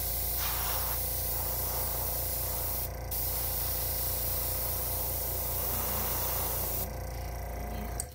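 Spray gun laying a white base coat onto crankbait fishing lures, a loud steady hiss running almost unbroken from start to finish, with only a brief dip near the end.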